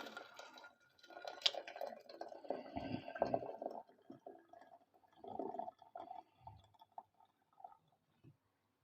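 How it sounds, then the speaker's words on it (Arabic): Boiling water poured from a kettle over ingredients being prepared for Egyptian falafel paste, a quiet splashing and trickling pour in a few bursts with pauses between. "هننزل عليهم بكاتل ميه مغلي كده."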